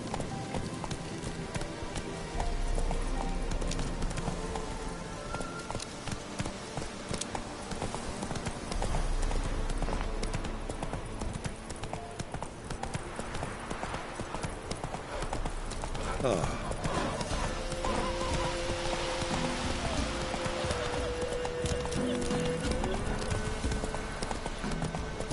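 Roach, Geralt's horse in The Witcher 3: Wild Hunt, gallops in steady rhythmic hoofbeats throughout, set against game music and ambience, with a voice talking over it.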